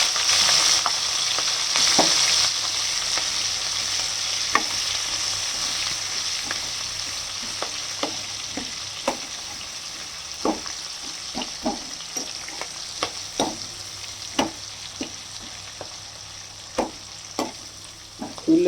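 Onions and green chillies fry in a pan with a loud, steady sizzle that slowly settles, punctuated by regular sharp clicks of a spatula stirring against the metal.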